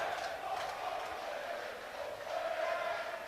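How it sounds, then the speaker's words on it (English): Falkirk football supporters roar and cheer in a stadium after their side pulls a goal back against St Mirren, a steady, dense crowd noise swelling slightly toward the end, heard from a distance. "The Falkirk fans to our left-hand side, cheering on their favourites."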